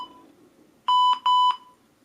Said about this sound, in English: if I press start, you have 5 seconds and then it beeps